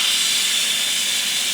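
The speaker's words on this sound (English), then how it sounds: "I'm going to move it over to where it says venting." Steady, loud hiss of steam escaping from an Instant Pot's pressure release valve switched to venting after cooking fresh green beans, continuous and close with no voices.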